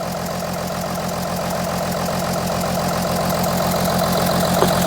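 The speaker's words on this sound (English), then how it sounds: "I'm gonna turn off the engine because this engine is shaking like crazy." A rough-running Audi Q7 diesel engine idles with a loud, continuous rattling drone and a pulsing, uneven knock, heard up close and alone.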